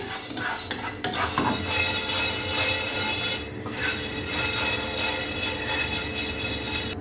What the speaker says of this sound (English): Now I've taken 1 teaspoon of black whole pepper. So we'll lightly roast this also.